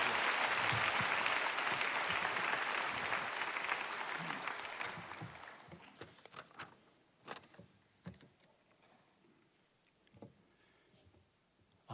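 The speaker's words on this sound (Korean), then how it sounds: "우리 목사님 나오실 때 다 같이 뜨거운 박수." A church congregation applauds loudly at a dawn revival service as a pastor comes out, then the clapping thins out and fades into a few scattered claps and quiet room noise.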